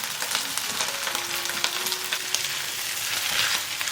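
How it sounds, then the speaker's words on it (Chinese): Beef fried rice with Chinese broccoli stir-fried in a wok, Chaoshan style: steady close sizzling and crackling oil with scraping and tossing sounds throughout, no talking. "快速翻炒一下"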